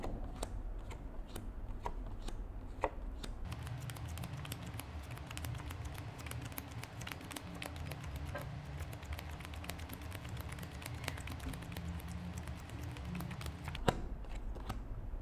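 A set of playing cards being handled and flipped through one by one, a dense continuous papery rustle and soft flicking, close and quiet, with a couple of sharper snaps.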